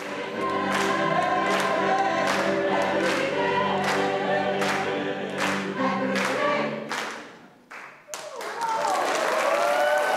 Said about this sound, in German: Das Publikum kam nicht umhin, voller Begeisterung den Rhythmus mitzuklatschen.